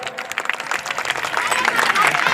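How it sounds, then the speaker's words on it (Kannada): Youths at a government school annual gathering clap loudly, with dense applause and crowd noise building steadily and louder toward the end. "ಜೋರಾದ ಹುಡುಗರು ಎಲ್ಲ ಯುವಕರು ಕೂಡ ಜೋರಾದ ಚಪ್ಪಾಳೆ ಮಾಡಬೇಕು"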